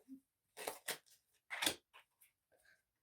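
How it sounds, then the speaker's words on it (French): Tarot cards being dealt by hand onto a table, a handful of brisk papery slaps and swishes in separate bursts spread over a few seconds, close and quiet with no talk. "pendant que je distribue les cartes"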